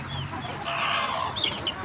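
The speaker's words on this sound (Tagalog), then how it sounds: "manok." Domestic chickens cluck nearby at a backyard feeding spot shared with ducks, several short overlapping clucks and calls in a quick, busy stream.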